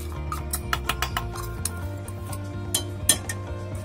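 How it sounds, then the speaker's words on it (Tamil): A spoon stirs almond cashew powder into thickened milk in a pan for homemade kulfi, with repeated quick metallic clinks and scrapes against the pan over a low steady hum. "இப்போ கரண்டி வச்சு கட்டி விழாத அளவுக்கு கரைச்சி விடுங்க"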